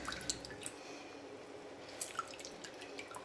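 Pineapple and ginger juice dripping through a strainer, a scatter of small, bright drips and splashes at an uneven pace, close up with no voices.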